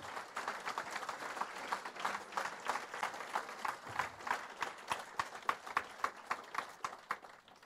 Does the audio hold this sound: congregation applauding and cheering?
yes